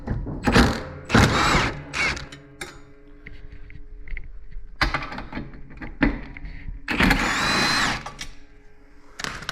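Bolts on a telehandler seat are loosened with a power tool, giving several loud whirring bursts separated by quieter clicks and mechanical rattles, all close up.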